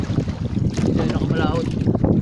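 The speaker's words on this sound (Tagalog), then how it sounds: "Talagang malakas talagang hangin." Strong wind buffets the microphone in a loud, rumbling roar on a small fishing boat out at sea, with water and boat noise and a voice faintly underneath.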